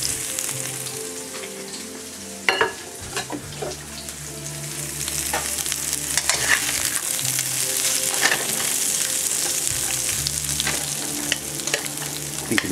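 Onions and sliced Opuntia cactus stir-frying in palm oil: a loud, steady sizzle with scraping stirs and occasional clanks of the utensil against the pan.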